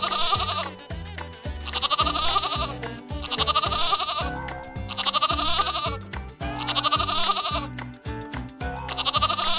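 Sheep bleat in repeated, evenly spaced calls over a bouncy children's counting song, the wavering cries sitting prominently in the mix alongside steady music.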